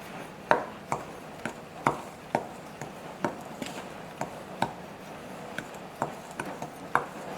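Dry breading ingredients with dried parsley are stirred in a bowl, making faint, evenly spaced taps and scrapes of a utensil against the bowl, repeating at a steady rhythm of about two per second.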